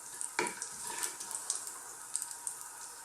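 Whole spices sizzle steadily in hot oil for a chickpea mushroom fry, a continuous bright crackle with small pops and a brief stir near the start, close and moderately loud with no voices.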